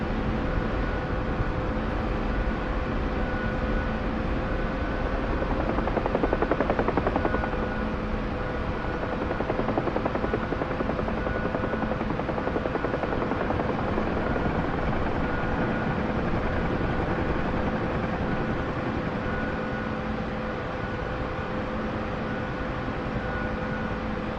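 A helicopter in the DCS flight-simulation game drones steadily and loudly throughout, its continuous rotor and engine rumble swelling slightly now and then, with no voices.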